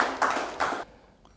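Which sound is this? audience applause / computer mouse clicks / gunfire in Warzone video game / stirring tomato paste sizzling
audience applause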